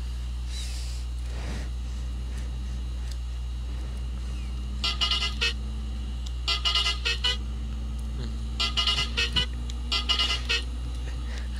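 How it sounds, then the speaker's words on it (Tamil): Horn of a TNSTC bus in the Euro Truck Simulator 2 game, sounded in four short bursts of rapid toots over a steady low engine drone, loud and clear. "ஹாரன் தான் வேற லெவலில் இருக்கு."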